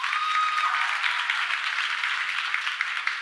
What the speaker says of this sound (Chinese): 第一堂礼拜之后又留下来的举手一下，要自己鼓掌一下哈